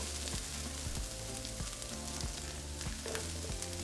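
Corn and minced garlic sautéing in a pan, a continuous soft sizzle and frying crackle with occasional stirring clicks, fairly quiet and close, with no talking.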